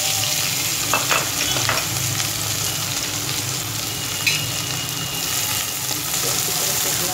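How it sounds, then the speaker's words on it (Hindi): Onions frying in a pan with cumin seeds and potatoes for stuffed capsicum, a steady close sizzle with occasional stirring scrapes and light clinks, continuous and fairly loud, with no voice over it. "प्याज भूनेंगे"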